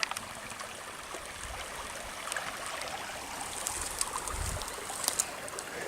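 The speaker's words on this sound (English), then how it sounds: "look at that ripple" Creek water ripples and burbles over gravel in a small gold-bearing stream, a steady, fairly quiet outdoor wash with occasional brighter splashes and no voices.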